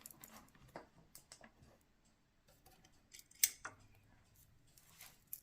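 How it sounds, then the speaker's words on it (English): Scissors working at paper in a western-themed junk journal, a series of faint close snips, scrapes and crinkles scattered irregularly, with one sharper click partway through. "I'm going to see if I can use the side of my scissors to open up the"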